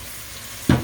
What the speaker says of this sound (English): they're frying on the olive oil, which is healthy